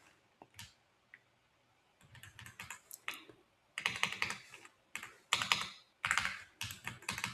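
Keys clatter on a computer keyboard in quick, irregular bursts of typing separated by short pauses, close and fairly quiet, with no talking.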